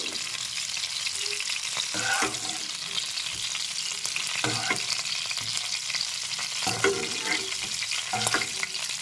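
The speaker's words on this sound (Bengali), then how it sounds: "এবার নেড়ে চেড়ে ভেজে নিচ্ছি কপিটা" Salted cauliflower florets fry in a pan for a Bengali rezala, a continuous soft sizzle broken by scraping stirs that come every second or two, close by and with no talk.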